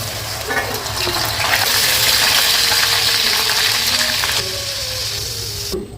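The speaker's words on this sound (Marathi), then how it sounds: "आता हे तळून घ्यायचं." Coated crispy corn fries in hot oil with a steady, dense sizzle and bubbling that holds for several seconds before cutting off abruptly at the end.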